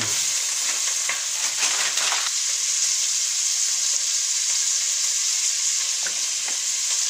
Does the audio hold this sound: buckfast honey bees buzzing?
no